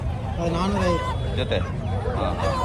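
Chickens at a poultry market: squawks and clucking mixed into a busy murmur of voices and distant traffic, with a couple of sharper bird calls partway through.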